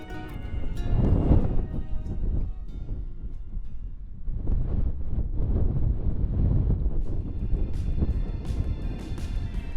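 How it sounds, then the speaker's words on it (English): Strong wind on an exposed mountain rock buffets the microphone in heavy rumbling gusts, briefly easing midway before roaring again, with no voices. "it was very windy on this rock"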